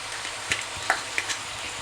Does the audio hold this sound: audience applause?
no